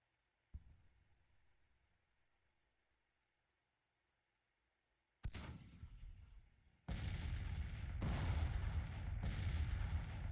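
Civil War cannon artillery in the strategy game Grand Tactician: The Civil War: one distant boom fades out, then heavier blasts follow in quick succession, louder and rumbling, layered into a sustained barrage.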